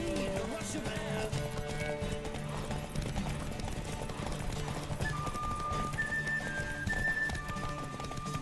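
A horse gallops in The Witcher video game, steady rapid hoofbeats drumming close under game music with sustained tones, while a voice speaks over the ride.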